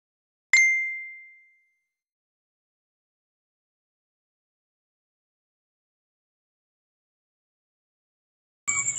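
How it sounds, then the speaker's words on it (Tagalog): A single bright message-notification ding rings out once, clear and close, then decays into a long silence before a brief faint rustle at the very end. "nagpadala ng mensahe ulit si Fab gamit ang peking account"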